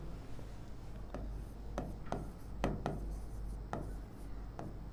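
Handwriting on a surface during a Hindi-language lesson on direct and indirect speech, heard as faint scratchy strokes with a few sharper taps, fairly quiet over steady low background hum.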